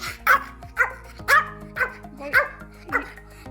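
A pet dog barks indoors in a home, six sharp yips spaced evenly at a steady rhythm, close and fairly loud, with no talking over them.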